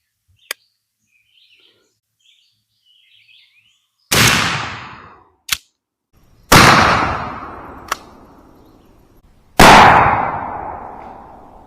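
12-gauge Winchester shotgun firing Hornady Varmint Express No. 4 buckshot in 2.75-inch shells outdoors, three loud booming blasts spaced a few seconds apart with long echoing decays, plus sharp small clicks and faint bird calls between.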